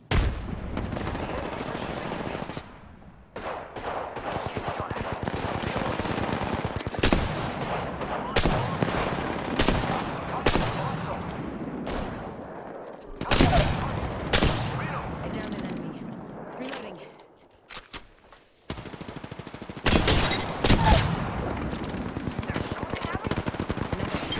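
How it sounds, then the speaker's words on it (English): Rapid automatic gunfire bursts from a video game, Apex Legends, loud and close, coming in repeated volleys with brief pauses between them and gun mechanism clicks mixed in. "Opening fire on the enemy."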